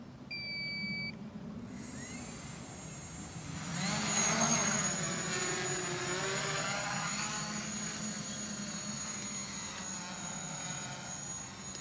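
A QuadLugs Mini XL RC quadcopter spins up with a high, steady whine that swells as it lifts off and then holds a continuous buzzing hum while hovering and flying nearby, with no talking.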